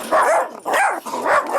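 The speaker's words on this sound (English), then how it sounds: "A trio of yapping dogs excited about something outside their Bullhead City home" Three small dogs yap and bark excitedly outside a home in Bullhead City, Arizona, in three close, loud bursts of shrill, high barking with short pauses between them.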